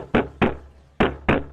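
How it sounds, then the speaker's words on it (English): Loud knocking at a door, four sharp raps in two quick pairs, close and distinct with nothing else heard. "he awakes with a start to a loud knock at the door."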